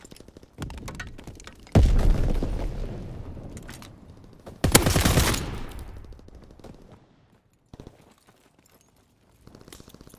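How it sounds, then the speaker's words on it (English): Explosions and gunfire on a Call of Duty: WWII battlefield come as two heavy booming blasts a few seconds apart, each with a long rumbling tail, surrounded by scattered sharp shots and quieter gaps. "Enemy bomb incoming! Get to cover!"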